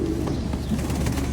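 One pigeon gives a brief, low, throaty coo nearby, a single short call over faint room noise.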